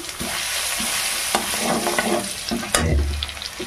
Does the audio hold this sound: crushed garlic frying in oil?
yes